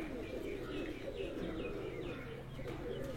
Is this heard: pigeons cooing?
yes